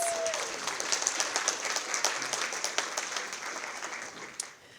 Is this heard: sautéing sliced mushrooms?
no